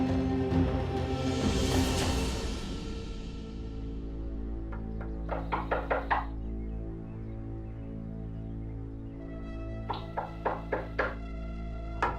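Two bursts of quick knocking on a door, about four raps each, heard over a sustained musical drone in a TV drama scene.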